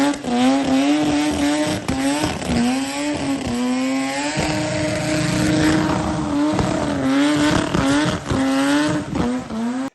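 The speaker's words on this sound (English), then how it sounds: "you tell me that thing isn't just the most performing rotary burnout car you've seen" Turbocharged rotary Mazda Cosmo doing a burnout at Summernats, its engine screaming loud and close with rising and falling revs under a constant tyre-squealing roar.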